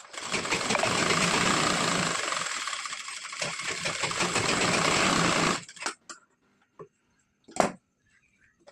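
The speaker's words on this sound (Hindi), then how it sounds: "इसी तरह से हमें सिलाई लगाना है" A sewing machine runs steadily and loudly for about five seconds, stitching piping onto a princess-cut blouse, then stops, followed by a few sharp clicks and taps.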